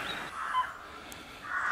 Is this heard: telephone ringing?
no